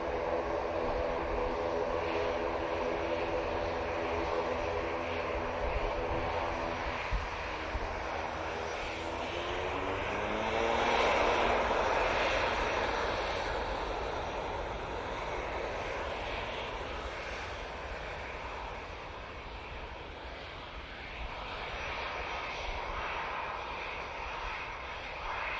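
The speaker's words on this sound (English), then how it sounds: "PC-12's already come onto the runway." A Pilatus PC-12 single-engine turboprop on the runway at Manchester Airport, its steady propeller drone loud and continuous, swelling midway as it moves, with no talk.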